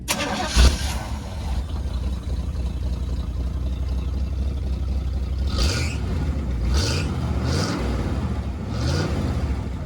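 A 1978 Chevy K10 truck engine cranks and starts, then settles into a deep, rumbling idle with several throttle blips revving it up nearby.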